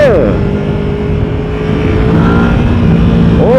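A Yamaha VMAX1700 motorcycle's engine roars loud and steady as it revs, close up, with wind noise running throughout.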